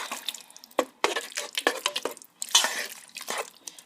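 Rice and sausage soup being stirred in a pot, a series of close wet sloshing and clinking strokes in an irregular rhythm, with no speech.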